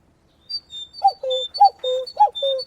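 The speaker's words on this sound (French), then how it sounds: "Le fameux coucou." Cuckoo-like two-note calls, a high pair followed by lower repeated cooing phrases in a regular rhythm, clear and close against silence.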